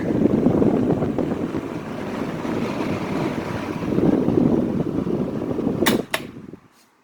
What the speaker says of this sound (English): Get some of that wind noise.